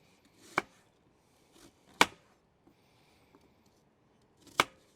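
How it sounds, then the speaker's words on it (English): Knife slicing apples down the middle on a board, three sharp distinct cuts spaced apart with a couple of softer taps between, close and clear in a quiet kitchen. "I'm just going to slice them down the middle, like a 1-inch"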